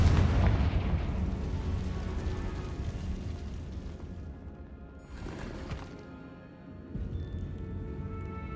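A Confringo blast spell going off in a great room, heard as a loud rumbling explosion that decays over several seconds, followed by a further debris crash and a smaller burst of rubble settling.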